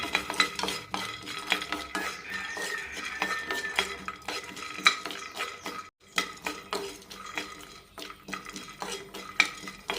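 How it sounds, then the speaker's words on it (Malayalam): Peanuts and roasted gram dry-roasting in a pan for chutney, heard as rapid rattling and scraping of a spoon against metal in irregular bursts, close up, with a faint sizzle underneath and a short pause midway. "ചട്നിക്കായി ഓരോ ടേബിൾ സ്പൂൺ വീതം നിലക്കടലയും പൊട്ടുകടലയും വറുത്തെടുക്കാം"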